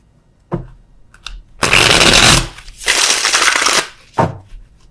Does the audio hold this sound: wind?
no